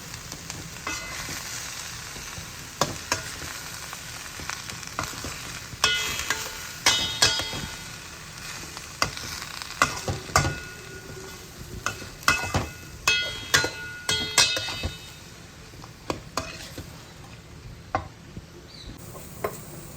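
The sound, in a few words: stirring and frying cabbage and egg in a pan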